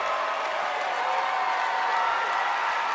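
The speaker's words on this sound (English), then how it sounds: "They're all cheering." Audience at a live event cheering and applauding, a dense, steady wash of clapping and crowd noise that holds without a break.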